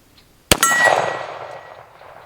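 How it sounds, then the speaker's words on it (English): A single sharp metallic clang rings out and decays slowly, a .45 bullet from a Springfield Operator 1911 striking a steel target at about 25 yards with a lingering ring. "still ringing steel"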